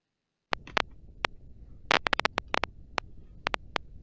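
Spikes recorded from hippocampal neurons in a mouse are played back as sharp, irregular clicks. They start after a brief silence, come in scattered single ticks and quick bursts, and sit over a faint low hiss.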